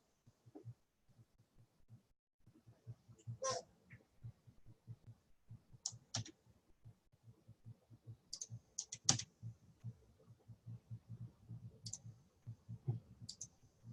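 Computer keyboard typing, a steady run of soft clicking keystrokes in irregular bursts across the whole stretch, with occasional sharper clicks standing out; fairly quiet and close, with no talking.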